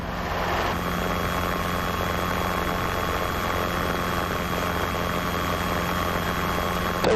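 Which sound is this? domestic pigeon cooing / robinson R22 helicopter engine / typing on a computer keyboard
robinson R22 helicopter engine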